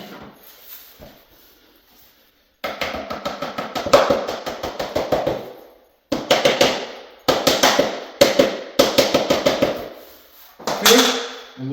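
Vinyl plank flooring being slid and knocked into place gives loud, rapid series of sharp taps and clacks in several bursts, close by with short pauses between.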